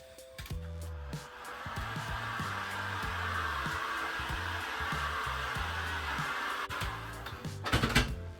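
Old window tinting is warmed with a blower-style heater, which makes a continuous airy whoosh with faint mechanical ticking and a few louder handling bumps toward the end.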